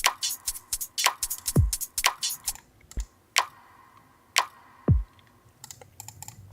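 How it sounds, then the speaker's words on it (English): A drum pattern with a Foley sample placed just ahead of each snare hit as a pre-clap, crisp clicky transients ticking in a busy rhythm with a few deep thumping hits underneath. "I'm going to be using this Foley sample to act as a pre-clap to my snare sound."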